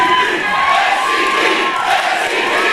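A large crowd cheers and shouts outside the MuchMusic studios in Toronto in 2001, a dense, steady roar of many voices that carries on without a break.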